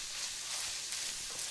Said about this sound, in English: It's starting to sizzle again, which means the moisture is running out